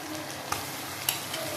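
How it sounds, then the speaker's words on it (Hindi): Garlic-ginger paste and onions fry in a pan with a continuous hiss and a couple of quick scraping stirs, heard briefly and close. "चलो अब ना इसे हम अच्छे से भून लेते हैं।"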